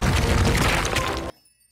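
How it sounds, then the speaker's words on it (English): Model train engine crashing through buffers and stacked oil drums on a wharf, a loud dense smash and clatter that cuts off abruptly into silence. "He bashed into his flatbed so hard they burst through the buffers smashed through oil drums stacked on the wharf and splashed into the canal."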